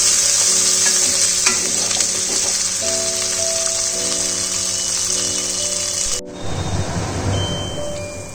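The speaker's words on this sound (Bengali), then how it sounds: "মশলাটা ফ্রাই হয়ে গেছে" Ground paste of cumin, coriander, ginger, garlic and green chilli fries in a pan for a raw jackfruit and prawn curry, a loud steady hiss with a low hum, then an abrupt cut to quieter bubbling.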